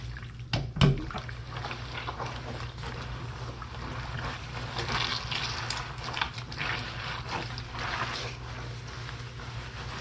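Rain gear being rinsed by hand in a tub of water after a Nikwax TX Direct wash, giving a steady close wash of sloshing and trickling water with a few sharper splashes near the start.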